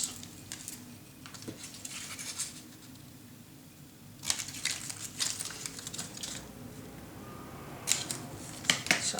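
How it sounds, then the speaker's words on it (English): Scissors snip through Graphic 45 'A Ladies' Diary' scrapbook paper, a few sharp cutting bursts in separate clusters at close range over a quiet background. "My scissors."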